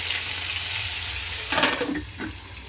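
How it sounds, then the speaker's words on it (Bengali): Fish fry in hot, salted oil under a lid, giving a close, steady sizzle that turns briefly louder and rougher with splattering crackles before easing again. "এবার মাছগুলো ছাড়ি এক এক করে, ঢাকা দিয়ে দিই, ঢাকা দিয়ে ভাজি।"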